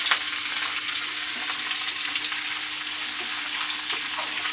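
Spices sizzle steadily in hot oil for a mutton curry, frying loudly and close up with faint stirring scrapes and no voices.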